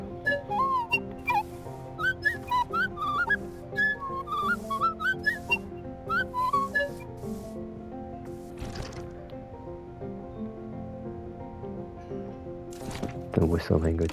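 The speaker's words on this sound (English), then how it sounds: "The whistle language is hilarious." Chirpy whistled character voices from the Tails of Iron video game, rising and falling in quick phrases over a steady musical game score, with a louder burst of music near the end.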